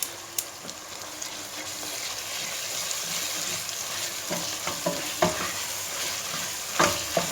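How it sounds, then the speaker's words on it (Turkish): Meat and potatoes with garlic and tomato paste sautéing in a pan, a soft continuous sizzle under intermittent clinks and scrapes of a spoon stirring, fairly quiet and close. "Ve kavurmaya devam ediyoruz"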